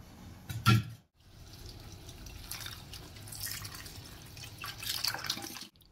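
Mint and coriander leaves rinsed under running water, a continuous tap stream splashing and dripping with a brief louder splash near the start, close by and without talk.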